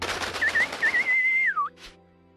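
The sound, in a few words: distressed bird noises in video game Valkyria Chronicles 2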